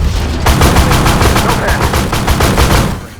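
Loud, sustained full-auto rifle fire from an FPS video game, shooting at long range through an ACOG sight: a rapid, unbroken rattle of shots that holds for about three seconds before trailing off.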